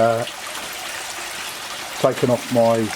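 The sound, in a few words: air pump bubbling through larger air stone in koi pond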